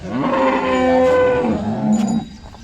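A single tall, full-sized cow at a cattle market gives one long, loud, close moo that falls away after about two seconds. No one speaks over it.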